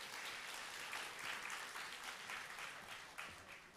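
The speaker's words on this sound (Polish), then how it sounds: "Poprosimy wielkie brawa dla profesora." A crowd at a university academic year inauguration ceremony applauds steadily, a dense wash of clapping that holds for the whole stretch with no voices on top.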